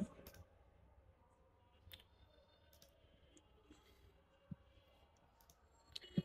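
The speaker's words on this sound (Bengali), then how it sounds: "এখন আমি এন্টার চাপবো।" A single Enter key pressed on a computer keyboard, heard as a few faint, sparse clicks in a quiet room, with one sharper click near the end.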